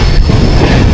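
The Jamnagar Tirunelveli Express runs along the Konkan Railway near Ratnagiri, a loud, close, continuous rumble with clattering wheels and a faint squeal.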